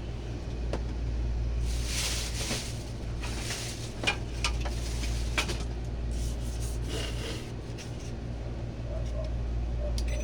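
A repaired air conditioner compressor starts and runs with a steady, loud low hum and a continuous mechanical drone, with intermittent rubbing and scraping noises and someone talking over it.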